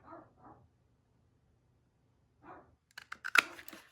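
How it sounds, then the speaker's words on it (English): A dog barks a few times in the distance, short muffled yaps spaced apart, followed by some close clattering and rustling handling noises. "I'm so sorry about my dog. I don't know what he's going off at."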